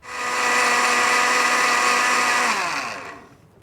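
Blender whirring at full speed as it mixes paper pulp with sparkly opal sprinkles for paper casting, a steady loud motor drone that winds down and stops near the end.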